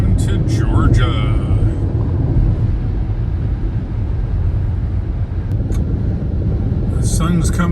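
Inside a Ford Mach-E electric car cruising on an interstate, a steady low road and tire rumble drones throughout, with a few brief faint higher sounds near the start and end.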